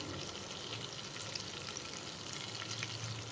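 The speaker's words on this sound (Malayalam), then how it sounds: "കടുക് പൊട്ടിക്കഴിഞ്ഞാൽ കുറച്ച് കറിവേപ്പില" Continuous dense crackling and sizzling of mustard seeds spluttering in hot oil, quite faint, with fine popping bursts scattered through it.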